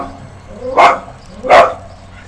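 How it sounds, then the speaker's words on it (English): A dog, Moppy, gives two loud, close barks about half a second apart, set off by passing cars in a quiet room. "Sorry about the dog."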